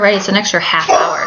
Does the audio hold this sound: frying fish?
no